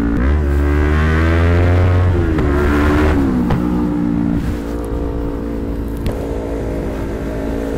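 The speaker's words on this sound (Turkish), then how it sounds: "Umarım motorun sesini de alıyorsunuzdur bir tık." A motorcycle engine revs up strongly at the start, its pitch climbing, then settles into a steady loud drone with some wind noise.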